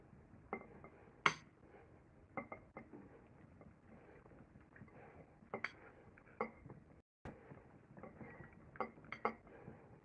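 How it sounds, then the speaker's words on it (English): Crepe batter of flour is stirred in a bowl, giving close, irregular clinks and light scraping against the bowl that continue steadily with brief pauses and no voices. "Then add in the 1 cup of flour and just mix everything together."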